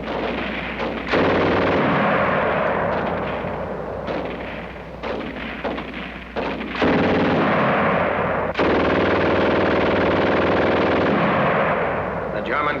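A German machine gun fires in a WWII film battle scene, sending loud sustained bursts and heavy gunfire with echo across the whole stretch. Brief pauses break the firing, and speech-like voices may be buried in the din.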